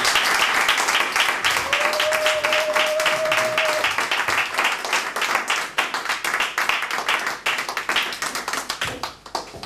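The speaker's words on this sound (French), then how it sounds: "Applaudissons très fort pour le Seigneur" A church congregation claps in praise of the Lord, a fast, rhythmic, loud clapping that runs throughout, with a brief sung or held tone early on.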